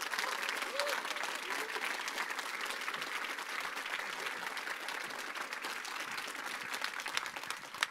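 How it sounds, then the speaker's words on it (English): Sustained applause from a large film festival audience, a dense steady wash of clapping filling the room throughout, with a faint voice briefly audible early on. "please give the warmest round of applause"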